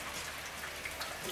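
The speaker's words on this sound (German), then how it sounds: "im Außenbereich regnet es jetzt ganz furchtbar" Heavy rain falls outdoors as a dense, steady hiss of drops, continuous and fairly faint, with no voices over it.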